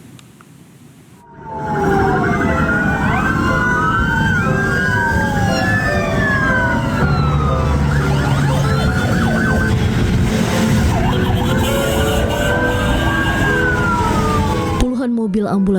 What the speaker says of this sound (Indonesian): Mobil ambulans mengiringi jenazah relawan gempa NTT Ahmad Zaki Ali